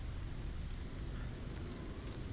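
Steady rain hisses over a soft, low rumble of thunder during a storm in the No Man's Sky video game. The wash is faint and unbroken, with no talking.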